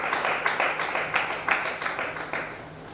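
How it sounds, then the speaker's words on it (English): An audience applauds at a creative writers and readers bootcamp, giving a steady patter of hand claps at moderate volume that thins out toward the end. "Please a round of applause for that."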